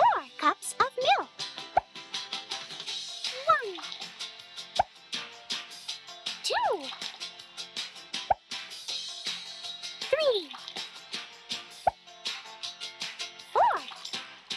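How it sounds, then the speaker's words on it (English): Cartoon plopping sounds of cups of milk dropping into a bowl in a Minnie cookie-baking video game, a few liquid plops spaced apart under a voice counting along. "Now let's add 4 cups of milk."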